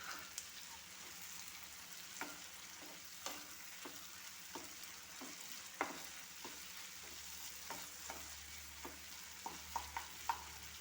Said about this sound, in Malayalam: ക്യാപ്സിക്കം ഇട്ട് കറിവേപ്പില ഇട്ട് നല്ലപോലെ വഴറ്റി കൊടുക്കാം